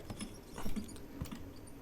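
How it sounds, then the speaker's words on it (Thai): Faint quick patter and scratching of a rat's small claws scurrying in a video game, soft and irregular against a quiet background hiss. "ใช่ มันคือเสียงหนูไงล่ะเพื่อน"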